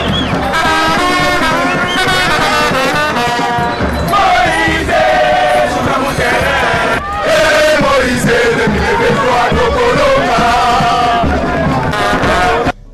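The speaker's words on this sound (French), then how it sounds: "La foule des militants venus ovationner leur leader était tellement compacte" A dense crowd of party supporters cheers Moïse Katumbi of Ensemble pour la République at a rally in Lubumbashi, Haut-Katanga: loud, continuous massed voices chant and shout without a break, close and enveloping.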